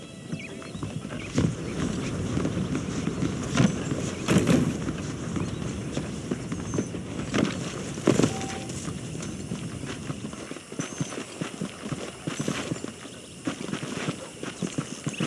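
Steady horse hooves clip-clopping at a walking pace in the Western game Red Dead Redemption, a continuous rhythmic thudding with occasional louder knocks over outdoor ambience, no talking.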